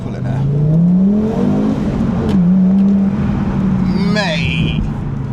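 An Audi TT RS accelerates hard from inside the car, its engine rising steadily in pitch through a gear before easing, loud and close; a brief whistle-like flutter follows near the end.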